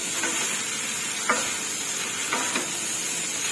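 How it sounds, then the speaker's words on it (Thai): Pad thai with fresh shrimp and chicken stir-fries in a hot pan as garlic chives are tossed in, giving a constant close sizzle broken by a few brief scraping strokes of the spatula. "กุ้ยช่ายค่ะใส่ลงไป ใส่ลงไปแล้วก็คลุกเคล้าเขากันค่ะ"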